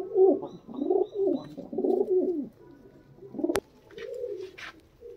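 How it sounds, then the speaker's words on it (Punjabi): Migratory high-flying pigeons coo in a series of soft, rolling calls at close range, with brief pauses between phrases and a single sharp click partway through; no one speaks. "ਬਹੁਤ ਅੱਛੀ ਕੁਆਲਿਟੀ ਹੈ, ਪ੍ਰਵਾਸੀ ਕਬੂਤਰ ਹੈ"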